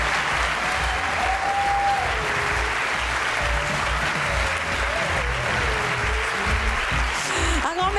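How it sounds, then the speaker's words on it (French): A conference audience applauding steadily and loudly throughout, a dense, sustained wash of clapping with a few faint whistles mixed in. "Et si on applaudissait"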